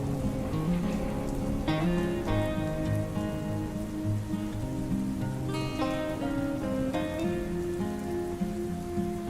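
Steady monsoon rain patters continuously on a surface at Rasalgad fort, Maharashtra, with a dense even hiss and scattered drips throughout, no voices.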